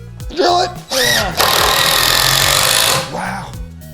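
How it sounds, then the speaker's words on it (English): Power drill driving a screw into wood while building a catapult: a steady high motor whine holds for about two seconds, preceded and followed by people talking up close. "Drill it."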